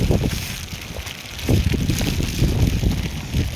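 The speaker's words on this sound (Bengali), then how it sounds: "পাগলা হাওয়া শুরু হয়ে গেছে পাগলা হাওয়া" Strong gusts of wind on the Annapurna Base Camp trek buffet the microphone, a loud low rumbling roar that surges and eases in waves.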